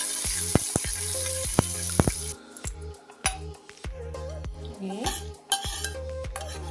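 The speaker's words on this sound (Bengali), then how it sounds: "এক চামচ সর্ষে ভেজে নিচ্ছি" A spoonful of mustard seeds and two dried red chillies fry in oil in a metal pan, with sharp clinks and spoon knocks against the pan over a brief sizzle and hiss that fades midway.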